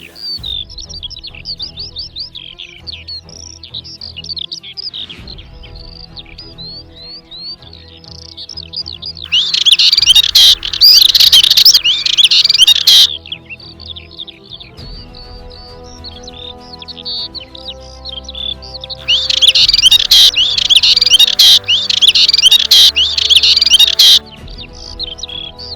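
Dartford warbler singing in open heathland at Plaines-Villes, Ploufragan: rapid scratchy chattering phrases, with two louder close bursts of song standing out over quieter background birdsong.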